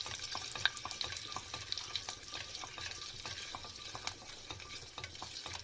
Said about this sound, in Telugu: ఆయిల్లోనే వేసేసుకొని బాగా అలా కలుపుకోండి.